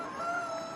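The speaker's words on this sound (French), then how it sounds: "Faites attention, ne lâchez pas les coqs." A rooster crows briefly at a roadside of the 2007 Tour de France stage in Saint-Genis, a short, bright, steady call lasting under a second, moderately faint.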